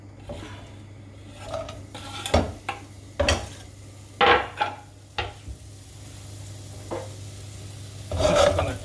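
Finely sliced shallots frying in a pan make a steady sizzle under repeated close scrapes and knocks of a utensil stirring against metal, with no speech.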